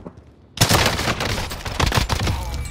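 A loud, close burst of rapid video game gunfire breaks out after a brief quiet moment, with shots crackling in quick, uneven succession.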